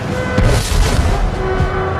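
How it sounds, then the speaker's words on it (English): A barrage from powerful cannon at the Battle of Waterloo rumbles in deep overlapping booms, loud and dense, rolling continuously with no voices over it. "Napoleon ordered a barrage of his most powerful cannon"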